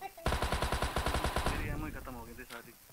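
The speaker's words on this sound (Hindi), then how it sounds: "उसकी गोली चल रही है अभी" A rapid burst of about a dozen evenly spaced automatic gunshots in a game, followed by a quick trailing rattle and faint voices.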